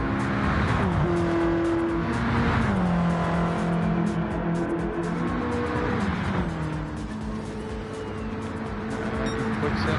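A race car engine drones loudly and continuously down the front straightaway in a GTCA championship race, its pitch climbing through the gears with shifts and tire noise, heard close with no voices.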